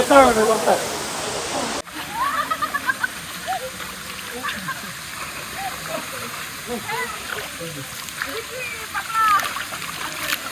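Madhabkunda waterfall in Bangladesh, the country's highest, roars as a steady broad rush of falling water close by, with voices talking over it and a louder burst at the start.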